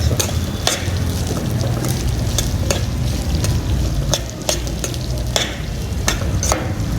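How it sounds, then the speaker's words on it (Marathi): Dried peas and moth beans sautéed in oil in a pan, with loud rhythmic scrapes of a spatula against the metal over a constant sizzle, close by and without voices. "हे वाटाणा मटकी टाकून घ्यायचे, ठीक आहे. आणि हे परतून घ्यायचं आपल्याला असं."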